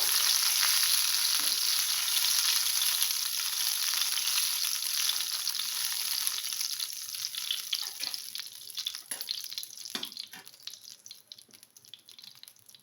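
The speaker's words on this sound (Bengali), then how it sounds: "সামান্য একটু রাঁধুনি ফোড়ন দিলাম এবার এটাকে একটু নেড়ে নেবো" Radhuni seeds sizzle steadily in hot oil as a tempering for a vegetable bora curry, loud at first and then fading, with light scraping and stirring sounds near the end.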